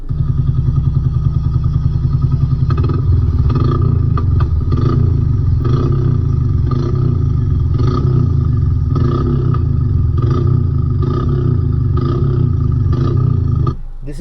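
A Royal Enfield Classic 350 single-cylinder motorcycle idles with a loud, deep, rhythmic thumping exhaust, close by and steady, ending with a brief drop at the finish.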